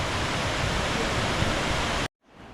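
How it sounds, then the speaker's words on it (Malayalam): Meenachil river water pouring over a check dam, a dense, continuous roar of rushing water heard up close that stops abruptly near the end. "മീനച്ചിലാർ പുഴ ഇങ്ങനെ വന്ന് ഇവിടെ ഒരു തടയണ കെട്ടി വെള്ളം പുറത്തേക്ക് ഒഴുകുന്നുണ്ട്."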